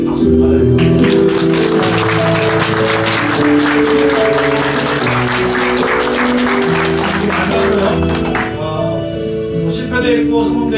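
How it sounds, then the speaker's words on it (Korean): A church congregation claps enthusiastically for several seconds over sustained music during a Sunday service, the applause thinning out near the end. "이건 특별히 박수를 받아야 될 것 같아요."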